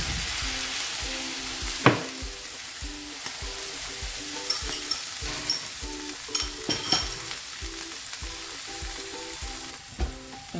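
An egg fries on cheesy potato and tuna in a pot, a loud steady sizzle broken by repeated clinks and scrapes of a utensil, close by with no speech.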